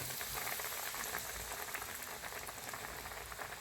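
Chicken tenders frying in hot oil at medium to medium-high heat, a dense, steady bubbling crackle, close and continuous with no talking.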